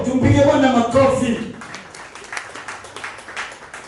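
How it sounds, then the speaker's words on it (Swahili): A church congregation claps hands for the Lord. A loud voice speaks at first, then scattered, rhythmic clapping takes over and carries on at moderate loudness. "tumpige Bwana makofi"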